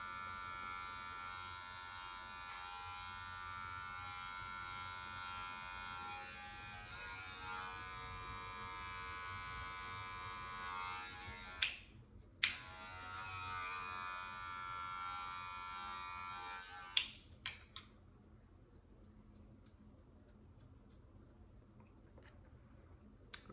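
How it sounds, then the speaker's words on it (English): Hair trimmers buzz steadily at close range while cutting hair during a self-cut high taper. A few sharp clicks come near the end, then the motor cuts off and quiet follows. "I'm just gonna freehand it with the trimmers"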